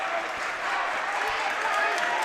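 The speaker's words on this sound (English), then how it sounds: "The crowd really, this is the loudest I've heard the atmosphere tonight on both sides." Gym crowd at a boys high school basketball game between Racine Lutheran and Dominican, roaring in a loud, continuous wash of cheering and clapping with voices blended in throughout.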